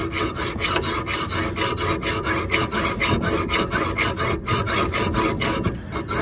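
A bolt on a 1999 Ford F150's suspension is cut with steady, rapid rasping strokes, loud and close, continuing without a break and with no talking over it.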